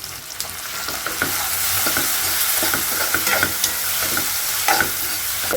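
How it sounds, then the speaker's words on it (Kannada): Chopped tomato frying with masala in a pan, a loud close sizzle broken by repeated scraping stirs, steady throughout with no voices. "ಇದು ಸ್ವಲ್ಪ ಫ್ರೈ ಆಗಬೇಕು"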